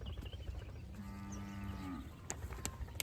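A dairy cow gives a single drawn-out low moo lasting about a second, over faint farmyard background noise, followed by a few sharp clicks or knocks.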